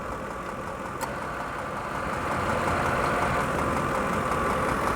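Ford F150 engine running with the AC on full, a steady mid-pitched hum that grows a little louder and fuller partway through as the compressor engages, with a faint click early on.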